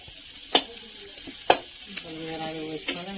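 Onions frying in a pan sizzle softly beneath a few sharp stirring clacks of a spoon against the pan, spaced about a second apart.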